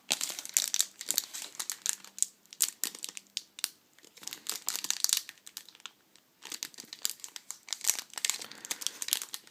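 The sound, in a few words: opening a sealed Pokémon booster pack wrapper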